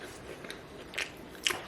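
Potato chips crunched between the teeth while snacking, a few quiet crisp bites spaced out over under two seconds, close and soft against a low room background.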